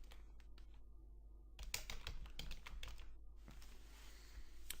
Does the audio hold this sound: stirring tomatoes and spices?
no